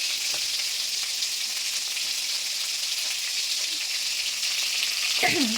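Prawns frying in hot oil in a pan for a prawn malai curry, a dense continuous sizzle with crackling spatter throughout, close and fairly loud, with a brief scrape of stirring near the end.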